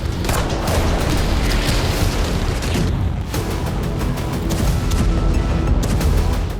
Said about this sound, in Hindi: सूमी, खार्किव, डोनेट्स्क और ज़ैपोरिज़िया तक लगातार धमाके हो रहे हैं।